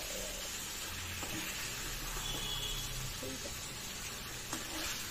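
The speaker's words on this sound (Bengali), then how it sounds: "তো অনেকটা তেল ছেড়ে দিয়েছে ভাজা ভাজা করতে" Mutton pieces frying in a lot of released oil in a pan, a steady close sizzle and hiss with occasional stirring scrapes and light clinks, a voice faintly speaking underneath.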